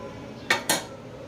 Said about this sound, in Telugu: ఇప్పుడు ఒకసారి బాగా కలబెట్టుకోవాలి